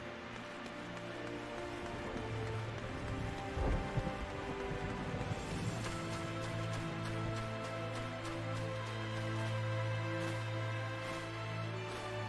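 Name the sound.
rain in the video game Final Fantasy XIV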